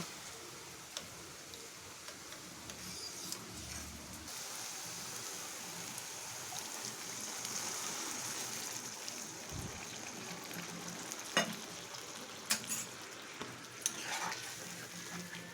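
Coconut milk poured into cooking yam stems and stirred in a pan, producing a soft continuous sizzle and bubbling with occasional spoon scrapes and clinks, faint and steady.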